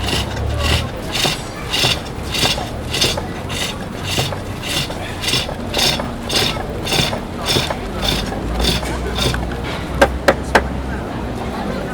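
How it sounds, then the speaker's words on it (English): A wooden bowl's core cut on a pole lathe at an outdoor Viking festival demonstration, with regular rhythmic scraping strokes roughly every half second and a few sharp knocks near the end. "So you'll hear the cut. When the hole goes down, that's when I'm cutting."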